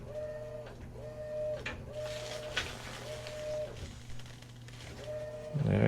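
An Epson F2270 printer printing hoodies runs with a steady hum and repeating mechanical tones in regular cycles about once a second, with brief clicks and a thump near the end.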